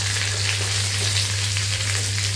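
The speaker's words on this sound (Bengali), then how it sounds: "কাজু আর কিশমিশ দেওয়ার পরে এটাও একটু নেড়ে চেড়ে 2-3 মিনিট ভাজা ভাজা করে নেব" Cashews and raisins frying in oil in a pan, a steady dense sizzle over a low hum, with no talking.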